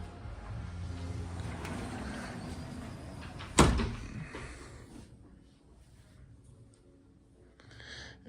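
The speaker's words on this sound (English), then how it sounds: "Here's our big sliding door to our area out here." A large sliding door in a Hilton Dead Sea Resort hotel room rolls along its track with a low rumble, then a sharp loud thump as it stops, followed by quieter room ambience.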